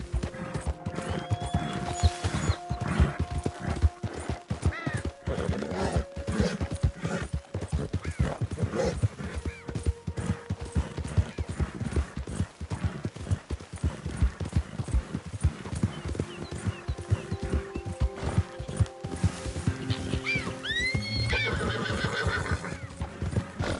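A ridden horse trots with continuous hoof clip-clops and neighs now and then, loud and close throughout, with no talk.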